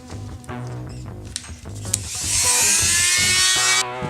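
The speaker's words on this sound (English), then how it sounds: "you can actually use the Dremel to make the first couple incisions" A Dremel rotary tool cutting, starting with an intermittent buzzing whine and rising to a loud, steady, high-pitched grind through the second half, heard up close.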